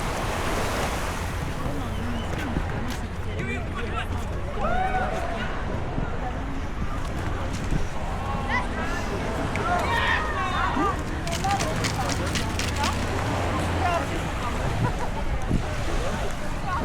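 Surf washes in steadily over a beach at Anfi del Mar, Gran Canaria, with wind buffeting the microphone and a few scattered voices in the background.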